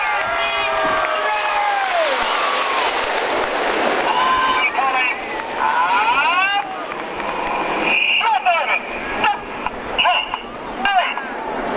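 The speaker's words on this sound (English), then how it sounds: "Let's have a round of applause for the Royal Air Force team" Crowd at an outdoor air show for the Red Arrows, the Royal Air Force display team, clapping and cheering in a broad, sustained roar over the ground, with a loud announcer talking over it throughout.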